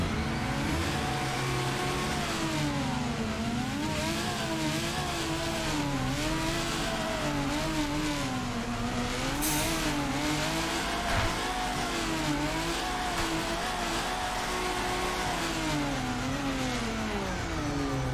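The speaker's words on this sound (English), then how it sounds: "Well, we'll give Adam LZ's S15 a rip." Engine of Adam LZ's S15 drift car in the Torque Drift video game, revving loud and continuous with rising and falling pitch as it shifts through a drift run, with occasional tire squeal.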